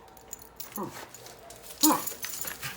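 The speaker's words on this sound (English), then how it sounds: "She was a stray dog that I found in Oakland 8 years ago." A stray dog found in Oakland gives a few soft whimpers and short yips, close by, with a brief, louder whine near the end and some quiet voice nearby.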